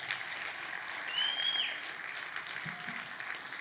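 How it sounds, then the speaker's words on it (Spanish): A church congregation claps for a few seconds, a soft, diffuse wash of applause heard from a distance, with a faint high whistle-like tone rising briefly in the middle. "Denle un aplauso al Señor por eso."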